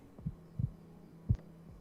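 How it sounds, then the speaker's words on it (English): Synthetic heartbeat sound effect from an AI voiceover tool: three soft, low thumps spaced unevenly across a couple of seconds, with a steady faint hum underneath and no voices. "Let me show you the heartbeat one just to show an example."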